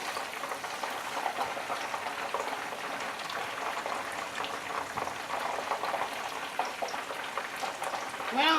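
Butter melting in a pan for garlic herb chicken wings, a soft continuous crackle and sizzle of fine pops, close and steady, with faint background sounds and no speech.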